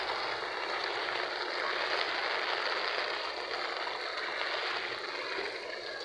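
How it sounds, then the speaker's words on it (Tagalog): Steady monsoon-type rain hisses down continuously during flooding, a dense even patter with no voices. "Nag-ulan na."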